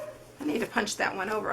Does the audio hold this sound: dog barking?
yes